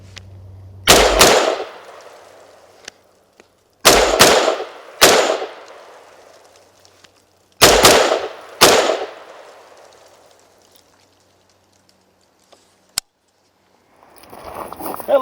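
Close-range rifle shots ring out from an AR-type rifle, about six sharp loud cracks in irregular clusters, each trailing into a short echo, separated by quiet gaps with a faint click or two between.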